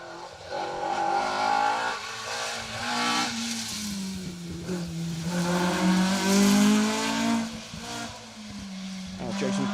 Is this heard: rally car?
yes